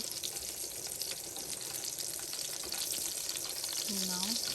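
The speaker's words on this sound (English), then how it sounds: "the meat is already frying" A steady crackling sizzle of meat frying in a pan for meatballs, continuous and close, with a faint voice briefly near the end.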